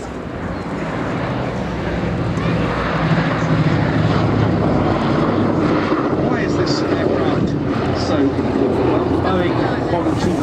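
A Boeing B-17 Flying Fortress, Sally B, flies past at an air display, its piston engines droning loud and steady throughout with a broad roar, while a commentator talks over it.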